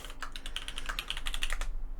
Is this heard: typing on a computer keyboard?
yes